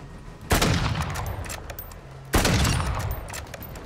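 Two loud bursts of automatic gunfire in Call of Duty: Modern Warfare 2 (2022) team deathmatch, each a sharp onset followed by a sustained rattling volley, close and dominant over ambient game noise, with no talk.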